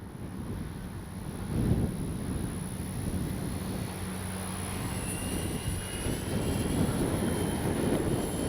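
A radio-controlled Swift model jet plane drones steadily overhead on its maiden flight with a continuous engine whine, mixed with wind buffeting the microphone throughout.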